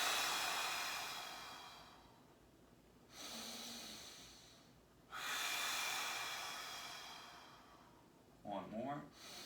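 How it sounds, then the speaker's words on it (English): Three slow, deep breaths during a stretch in a mobility routine, long airy inhales and exhales rising and falling at close range, with a brief voice near the end. "3 deep breaths, getting taller and tighter on the exhales"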